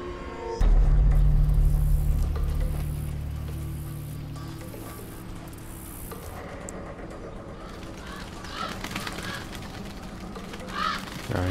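Ravens caw loudly in the video game Die Young, a burst of harsh calls up close at the start that fades into a quieter, continuing chorus of cawing over ambient background.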